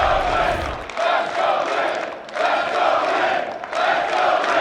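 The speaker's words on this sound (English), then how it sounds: "The crowd cheering" Spectators at a professional table tennis match cheer and chant in loud rhythmic bursts, swelling and dipping in waves of crowd noise filling the arena.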